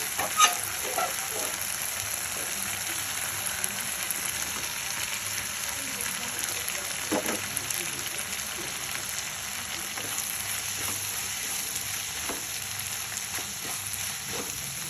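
Fried okra sizzles in a pan with cooked tomato, a continuous crackling fry with scattered soft pops and occasional stirring scrapes, close and moderately quiet.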